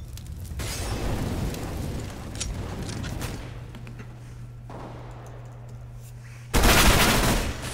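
Counter-Strike match on Cobblestone, with MAC-10 and AK gunfire crackling in rapid bursts beneath a steady low hum, ending in a loud close volley.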